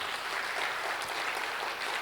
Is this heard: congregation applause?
yes